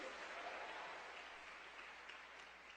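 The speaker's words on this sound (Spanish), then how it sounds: "dale el aplauso al Señor" A congregation at a church service applauds the Lord, a steady, soft wash of clapping heard from some distance that stays even for a few seconds.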